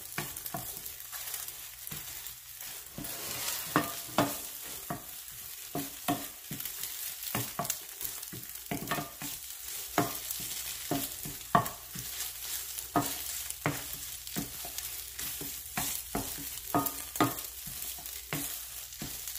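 Egg frying in a pot of shrimp fried rice, stirred with frequent sharp scrapes and taps over a soft, constant sizzle, close by and without talk.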